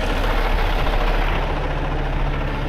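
A tractor fully loaded with mulch, stuck on soft, rain-soaked golf course ground, idles in a loud, steady low rumble that holds even and close throughout with no talk.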